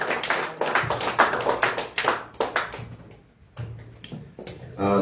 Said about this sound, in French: Nous invitons à applaudir cet esprit